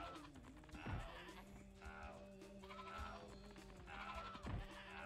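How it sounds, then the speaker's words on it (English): In the PlayStation game Spyro 2: Ripto's Rage, a goat bleats in short quavering cries, two or three of them, over quiet game music and ambience. "Goat!"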